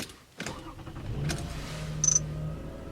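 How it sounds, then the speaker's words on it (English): Lexus ES330 from 2005 starting up on a freshly programmed key: a sharp crank catches at once, then the engine settles into a steady low idle, close and alone with a brief high chime partway through. "I'll try the new key to make sure it starts the ignition"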